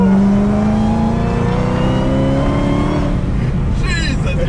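A lowered, custom-shifted 1000-horsepower widebody Dodge Hellcat accelerates hard, its loud engine note climbing in pitch over several seconds with a rising whine, heard from inside the car, with passengers' voices breaking in near the end.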